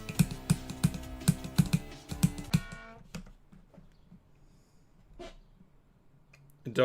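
Typing on a computer keyboard with flat keys: quick, close, sharp clicks in fast bursts, then slowing to scattered single taps.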